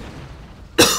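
A single sharp cough from a man bursts out near the end after near-silence, loud and close to the microphone.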